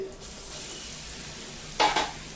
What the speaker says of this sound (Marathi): मस्त परतून घेऊया